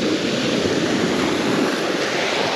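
Sea waves wash steadily onto the shore at Lazarevskoye near Sochi, a continuous broadband roar of surf with some wind, close and loud, with no voices.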